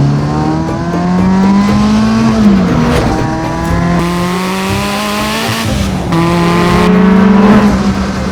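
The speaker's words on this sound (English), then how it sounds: "Oh, the rev limiter is brilliant." Loud supercharged Ariel Atom 4R engine revving hard and holding high revs, the pitch repeatedly climbing and dipping as it bounces against the limiter.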